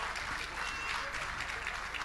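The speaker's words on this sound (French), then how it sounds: "On va l'applaudir très fort" Audience applause at an evening event as a woman is welcomed on stage, a steady, fairly faint patter of many hands clapping with no pause.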